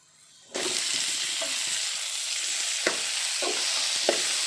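Chopped onions and tomatoes drop into hot oil with golden-fried urad dal, a sudden loud sizzle that settles into steady frying hiss, broken by a few soft stirring knocks of a spoon in the pan.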